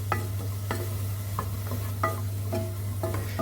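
Vegetables tossed into a hot pan for a stew, frying with regular stirring scrapes and clicks over a low steady hum, no talking.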